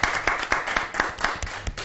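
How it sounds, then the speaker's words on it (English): Group of schoolchildren clapping together in a steady, rhythmic beat, sharp repeated claps at a moderate pace, fairly close and alone without talk. "For Dhruv and Dakshish, big clap."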